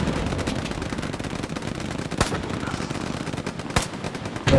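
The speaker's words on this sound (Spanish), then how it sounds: "por el norte, hay una ametralladora, Doug, que esa es tuya." Sustained machine-gun fire in a video game rattles loudly and continuously, a dense unbroken burst with a few heavier cracks standing out near the end.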